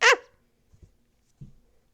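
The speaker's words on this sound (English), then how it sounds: "The dog does a cute little happy bark." A small dog gives a single cute, happy bark, short and bright, followed by a couple of faint soft thumps in an otherwise quiet room.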